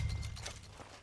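Horse hooves clip-clop in Red Dead Redemption 2 as a mount starts moving, a brief run of soft, fairly close steps over low ambient rumble, with no talking.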